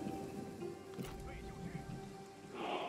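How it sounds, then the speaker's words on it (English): Pouring rain in a historical strategy video game, a steady hiss of falling rain with a brief low rumble, heard under a person talking. "Pouring rain."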